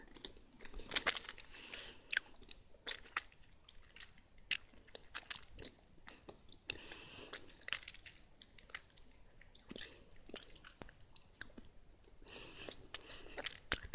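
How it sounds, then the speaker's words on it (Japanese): Caramel candy, a premium milk caramel and a tea-flavoured caramel, chewed close to the mouth, giving a steady run of soft sticky squishes and small crunchy bites for about fourteen seconds with no talking. "キャラメル食べて歯の詰め物が取れたことがあるので、ちょっと気をつけつつ食べたいと思います。"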